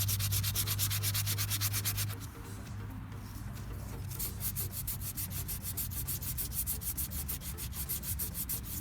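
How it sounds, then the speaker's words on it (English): Steady back-and-forth sanding of body filler on a Porsche 944 body panel, a rapid, even rasping rhythm that runs close and loud throughout, with a brief softer stretch partway through before the strokes resume. "What I'm going to do is go ahead and start sanding this down."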